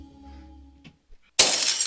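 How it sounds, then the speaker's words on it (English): Glass shattering as burglars trash a house, a sudden loud crash following a few faint thuds, brief and close. "That's the sound of a house being trashed while a gang of thieves ransack the"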